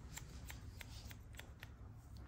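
A barber's scissors cut long hair with a series of quick, light snips in an uneven rhythm, close but soft, over a low background hum.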